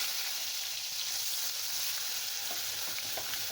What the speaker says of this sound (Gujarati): મીઠા લીમડાની આખી ડાળકી નાખીશું અને થોડીક એવી લસણની ચટણી નાખીશું સારી રીતે મિક્સ કરીશું